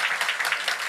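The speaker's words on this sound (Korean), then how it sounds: "박수로 환영해 주시면 감사하겠습니다" Church congregation clapping in welcome of a new minister during a Sunday morning service, a short burst of steady, fairly close applause.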